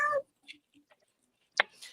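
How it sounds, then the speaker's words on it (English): A hairless Sphynx cat makes a few short, soft coos and chirps, close by and separated by quiet gaps, with one sharper chirp toward the end. "That was my cat."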